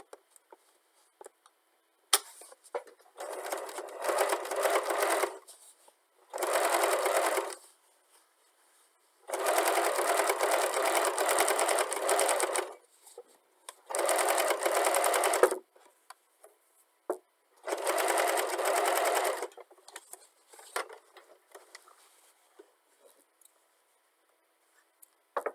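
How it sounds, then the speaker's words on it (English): Sewing machine top stitching about 2 mm along a patchwork seam of a strip-pieced pouch, running in five steady bursts of rapid needle chatter separated by quiet pauses, close and alone. "So you hold it like this and you begin top stitching."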